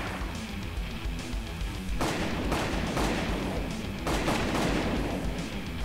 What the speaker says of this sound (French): On a un fusil à pompe, ça marche très bien.